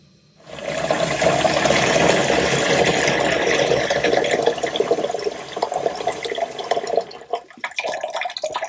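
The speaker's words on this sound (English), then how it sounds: "I've just filled up my bowl with some cold water." Cold tap water runs into a bowl in a steady, loud, rushing stream for several seconds and then tapers into splashy trickles.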